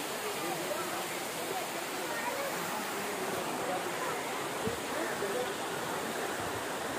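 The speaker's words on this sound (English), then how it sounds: "So this was the waterfall." Waterfall at a scenic site reached by climbing many stairs: a steady, broadband rushing of falling water, even and continuous, heard at moderate level.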